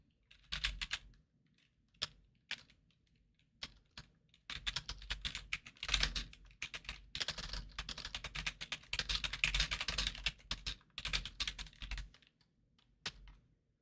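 Fingers tap steadily on a computer keyboard in uneven bursts, quick clattering keystrokes with short pauses and a few isolated clicks, close and fairly quiet.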